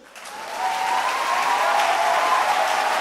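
A church congregation bursts into applause during worship, the clapping swelling quickly and holding as a dense, loud, sustained roar of many hands.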